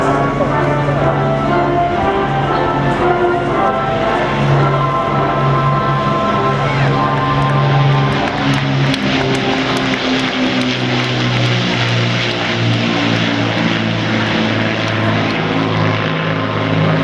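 Battle of Britain Memorial Flight propeller warbirds fly past at the Eastbourne Airbourne 2016 air show. The loud piston-engine drone holds steady for many seconds, swelling and shifting in pitch as the aircraft pass overhead.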